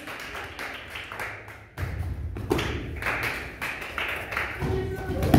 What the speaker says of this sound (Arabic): اللي يسويها زين صفقوا له